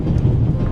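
A moving train in The Raven Remastered video game, heard as a steady, close, low rumble with faint rolling texture and no clear individual clacks.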